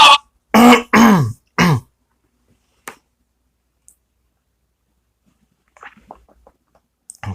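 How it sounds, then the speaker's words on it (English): A person clears their throat in a few short, harsh bursts, followed by a long quiet gap with faint scattered clicks like a neck cracking. "I'm trying to crack my neck. Sorry about that, everybody, and I had to clear my throat, too."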